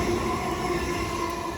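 A Southeastern train rolls into New Cross station on the South Eastern main line, a steady close rumble of wheels and running gear holding level throughout with no voices over it.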